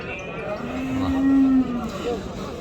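A heifer at a livestock market gives one sustained, fairly close moo, with market background noise underneath.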